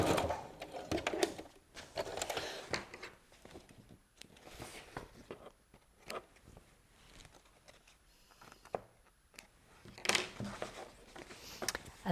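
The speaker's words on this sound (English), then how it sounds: "And just sew that on." A sewing machine stitches a wash-care label onto a square cushion pad, close and loud in stop-start bursts of rapid needle chatter separated by quiet pauses.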